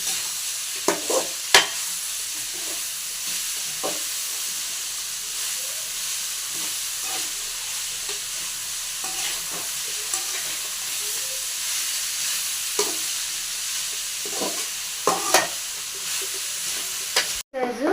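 Cabbage fry with salt and turmeric is stirred in a pan over a low flame, a steady sizzle punctuated by scattered scraping and clinking strokes of the spoon.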